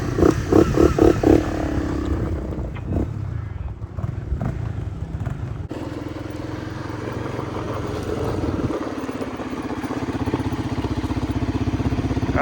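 Engines of a Honda CRF250L trike and a Honda ATC 200X three-wheeler revving and roaring for a drag race, loud buzzing bursts then a sustained drone, close by.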